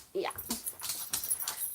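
A pet dog named Max lets out high, rising whimpers and soft whines up close, mixed with a person's affectionate talking.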